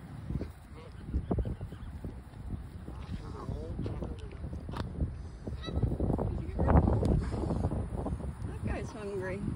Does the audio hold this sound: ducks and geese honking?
yes